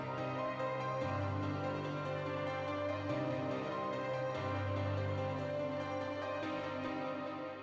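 A hip-hop beat carries a hook melody voiced as stacked chords with extra notes on top, playing steadily over a low sustained bass line at moderate level, with no voices.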